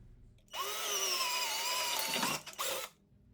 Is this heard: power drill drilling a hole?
yes